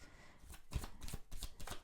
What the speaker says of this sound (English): These cards always flip, and then it's weird to shuffle with them.